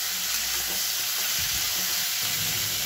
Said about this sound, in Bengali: এবার ফুলকপিগুলোকে আমি ভালো করে ভেজে নেব।